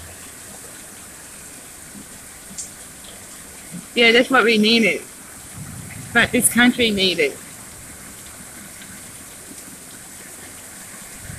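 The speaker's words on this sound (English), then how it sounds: "Yeah, about time we got some rain" Steady rain hisses throughout, a constant broadband wash, with two short bursts of people talking near the middle.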